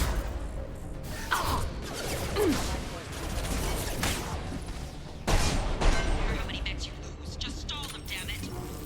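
Gunfire in the Mass Effect 2 video game crackles in bursts and single shots mixed with impacts and mechanical clatter, with voices talking throughout.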